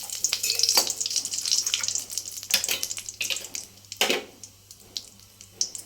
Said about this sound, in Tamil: இப்போ நம்ம வடச்சட்டியில் எண்ணெயை எண்ணெய் ஊற்றி சட்டி வச்சு காய வச்சுருக்கோம் இந்த சமயத்தில் பிரியாணி இலையை போட்டுக்கலாம்